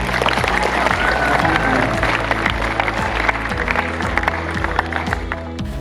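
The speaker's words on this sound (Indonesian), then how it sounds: "Sekali lagi beri tepuk tangan yang meriah untuk saya." Applause from an audience at a school literacy event, a steady dense clapping that fills the whole stretch at close range without pause.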